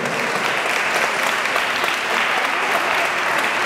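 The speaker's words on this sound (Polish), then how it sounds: "I wielkie, wielkie brawa, dziękuję Państwu pięknie." Audience at a senior ballroom dance competition in Gliwice applauds, a steady dense wash of clapping that holds throughout without letting up.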